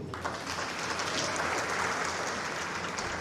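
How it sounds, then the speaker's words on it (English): Symposium audience applauding at a World Social Work Day event, a steady, dense wash of clapping that holds evenly for the whole stretch with no voices over it. "A round of applause once more."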